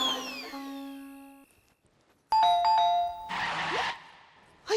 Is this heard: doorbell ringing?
yes